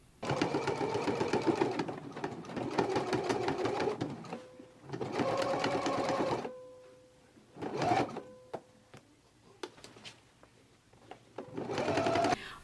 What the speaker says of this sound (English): Now we can go ahead and stitch close to the seam, making sure that you catch in the folded edge of the waistband on the inside